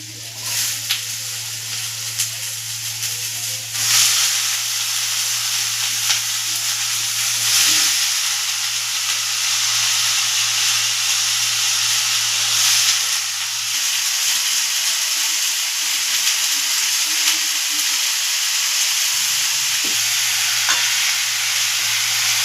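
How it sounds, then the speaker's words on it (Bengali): Chopped bottle gourd fries in spiced oil in a pan, giving a long, steady, close sizzling hiss. Occasional scraping stirs and soft clicks from a spatula break through, and no one speaks. "মশলা ভাজা গন্ধটা বেরিয়ে গেছে, এবার আমি লাউটা দিয়ে দেবো।"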